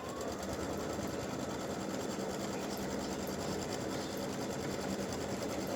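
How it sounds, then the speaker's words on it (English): An embroidery machine runs a placement stitch for bunny shapes, a steady, fast, even mechanical hum and needle chatter that continues without a break. "It's going to do a placement stitch for all three of the bunnies."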